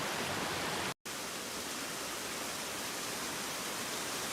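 A mountain brook on the Kinsman Trail in New Hampshire, rushing over rocks in a steady, dense, broadband wash that stays loud and unbroken, apart from a brief cut.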